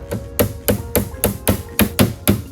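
A hammer taps repeatedly during interior repair work on a flood-damaged Porsche 911 GTS, eight sharp, evenly spaced knocks in quick succession, close and loud.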